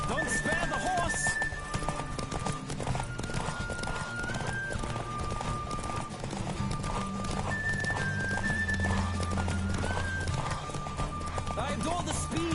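A horse gallops with rapid clip-clopping hooves and lets out neighs and whinnies during gameplay in The Witcher, mixed with game music and effects.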